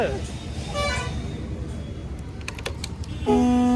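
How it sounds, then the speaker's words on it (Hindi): A nasal motorbike horn honks briefly at the start and then blares in a sustained loud toot at the end, over street noise and people talking. "हॉर्न देखो।"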